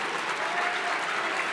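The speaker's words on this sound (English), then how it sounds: "let's thank our envelope presenters too. Give them a quick round of applause." Short burst of audience applause at a medical school Match Day ceremony honoring faculty presenters, a dense, even patter of many hands clapping from a crowd across the whole moment.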